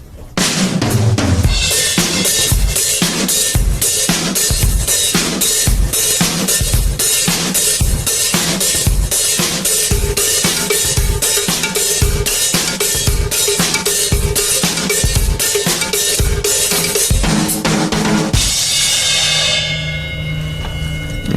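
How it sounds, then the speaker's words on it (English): A drum kit plays a steady Latin groove: regular kick and snare hits with a bright metallic cowbell pattern on top, ending in a ringing cymbal wash. "let's play a Latin part on the cowbell, something like this"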